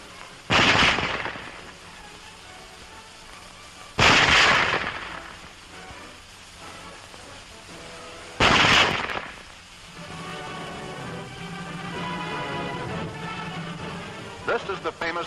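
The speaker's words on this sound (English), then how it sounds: "Loading and firing the Model 98K is the same as our own Springfield" A WWII German Model 98K bolt-action rifle fires three sharp, loud single shots a few seconds apart, each followed by a decaying echo, with mechanical handling noise and a low hum after the last shot.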